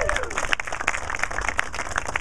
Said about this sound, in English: let's applaud Warbird Adventures for providing the aerial show above